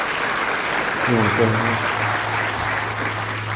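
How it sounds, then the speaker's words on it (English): Audience applause at a Lawrence County school sports awards event, a steady broadband clatter of many hands filling the room, with a voice speaking briefly over it. "give them a round of applause"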